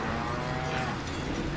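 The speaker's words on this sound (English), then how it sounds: "What? A cow? Nice try, Wheel" Cow mooing in the Deadpool video game, one sustained low bovine moo filling the short clip, loud and close with no speech.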